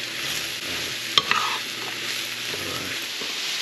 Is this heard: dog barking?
no